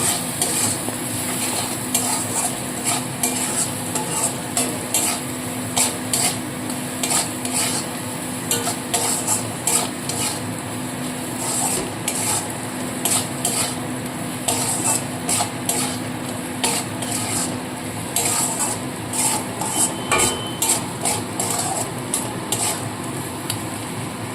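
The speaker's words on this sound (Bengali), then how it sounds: "এইবার মশলাটাকে খুব ভালো করে কষিয়ে নেব" Spice masala for chicken ghugni is stirred and fried in a pan: repeated rhythmic scrapes of a spoon against the pan over a constant loud sizzle, running steadily without voices.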